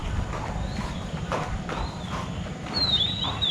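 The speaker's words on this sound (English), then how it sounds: "Oh, two more horses." Horse hooves clip-clop on hard ground in a nature park, a steady walking rhythm at moderate distance with outdoor background noise and a brief high squeal near the end.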